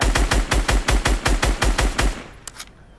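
Rapid burst of SCAR assault rifle fire in a first-person shooter, about a dozen loud, evenly spaced shots over two seconds, then a couple of fainter distant pops.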